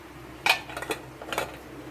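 A metal lid set down on a cooking pot of sinigang with fish and shrimp, giving a sharp clink followed by a few lighter clatters and a second brief rattle, close and fairly quiet in a still kitchen.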